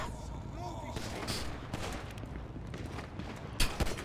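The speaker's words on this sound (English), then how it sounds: "Shots fired, Grove Street." Gunfire in the GTA 5 roleplay city, several sharp cracks and thumps scattered over a few seconds, with one louder shot near the end, amid busy game noise and some voices talking.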